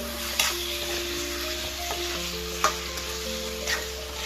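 Marinated chicken stirred and fried in a pan sizzles steadily, broken by a few sharp spatula knocks against the pan and a low steady hum with faint tones in the background, and no one speaks.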